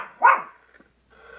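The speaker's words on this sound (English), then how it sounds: "And my dog is barking again." A pet dog indoors gives one sharp, loud bark, followed by a brief faint scuffle and then near silence.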